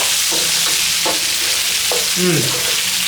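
Lamb and beef fry in curry oil in a pan with a loud, continuous sizzle. Several short scraping stirs cut through the hiss.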